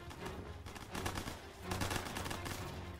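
Dense, continuous gunfire from a WWII prop hunt video game, with rapid overlapping bursts like a machine gun and a loud, steady, crackling barrage for the whole stretch.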